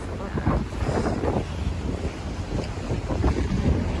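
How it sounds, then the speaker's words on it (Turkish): Strong wind buffets the microphone in rumbling gusts, with a low roar like open water or a boat in the background. "Bugün hava biraz rüzgarlı."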